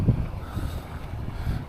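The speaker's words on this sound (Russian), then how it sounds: "И здесь ветер уже в спину." Wind buffeting the microphone beside the water on a trout fishing outing, a continuous low rumbling roar with gusty swells and no talking.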